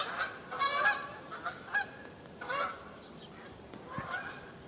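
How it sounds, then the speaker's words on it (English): Geese honk repeatedly at moderate distance, a series of nasal calls in irregular bursts over faint outdoor background noise. "birds or geese or whatever"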